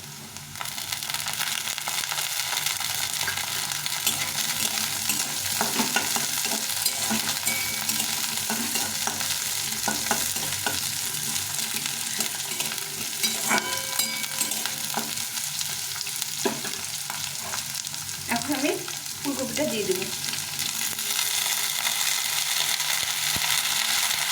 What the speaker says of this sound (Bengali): এখন এখানে পেঁয়াজটা দিয়ে দেবো